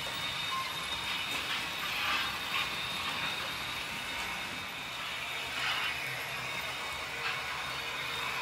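A Märklin Re 4/4 II model locomotive pulls a local train, giving a faint, steady mechanical hum and whir of the motor and wheels on track with soft rattling, no talk.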